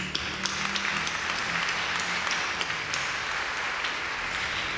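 A church congregation applauds at a parish patronal feast in Pétion-Ville, a steady dense clapping that fills the whole stretch at moderate level with a faint low tone beneath.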